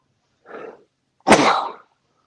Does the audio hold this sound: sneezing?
yes